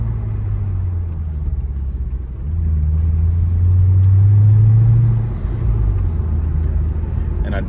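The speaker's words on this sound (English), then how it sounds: "I do like the mufflers. They do sound really good." Mercedes SL500 with a Lorinzer kit and aftermarket mufflers, heard from inside while driving: a steady low exhaust rumble that swells louder midway as the engine pulls, then settles back.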